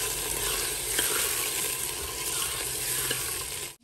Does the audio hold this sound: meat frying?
yes